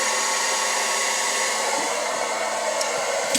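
A hair dryer blows continuously on its cool shot setting while drying hair, giving a steady, close, even airflow hiss with no talk.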